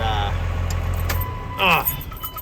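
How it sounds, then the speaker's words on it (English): A truck's engine idles with a steady low rumble for about a second, then cuts off abruptly, followed by a brief clatter and faint jingling. "let me shut the truck down"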